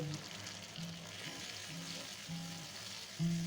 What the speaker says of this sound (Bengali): এবার আমি সমস্ত উপকরণগুলি ভালো করে তেলে একটু ফ্রাই করে নিচ্ছি